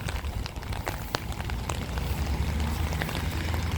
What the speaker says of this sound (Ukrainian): Боги, як невчасно цей дощ.